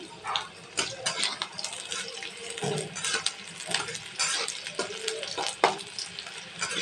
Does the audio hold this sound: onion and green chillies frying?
yes